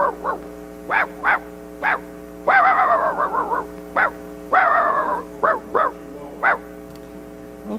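A played recording of a small dog barking, with a run of short sharp yaps broken by two longer, drawn-out whining barks, loud and close over a low steady hum.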